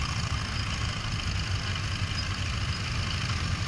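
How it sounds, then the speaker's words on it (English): An Allis Chalmers CA tractor engine runs steadily at a parade of power, giving a continuous, fairly loud mechanical drone with a low rumble and no talking over it. "This is another Allis Chalmers CA in its work clothes."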